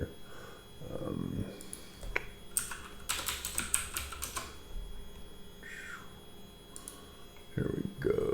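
Keys clatter on a computer keyboard as terms are typed into a document, coming in quick bursts of clicks between pauses, close by, with faint background sound.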